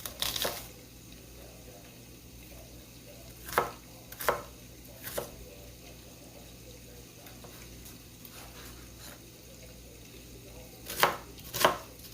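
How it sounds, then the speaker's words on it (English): Knife chopping onions on a cutting board: a few sharp thuds in irregular bursts, near and clear, with quiet kitchen background between them. "Start chopping that up."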